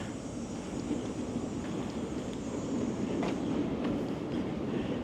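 Boston Orange Line subway train passes at the Southwest Corridor, a faint, steady rumble of rolling cars with low clatter building slightly toward the end, heard alone without talk.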